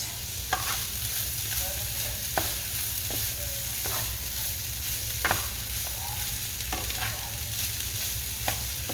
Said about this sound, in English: Alright, I'm going to let this saute for a few minutes.